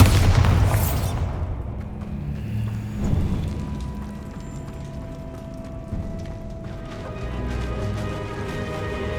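A Bombarda spell detonates in Hogwarts Legacy with a loud opening boom and crackling burst, then a low rumbling tail and scattered debris under game ambience.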